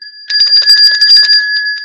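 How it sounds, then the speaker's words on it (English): A bell rung on a live weather show, a loud, close, rapid ringing with a sustained bright metallic tone that lasts nearly two seconds. "Frank R, ring the bell for Frank R 45."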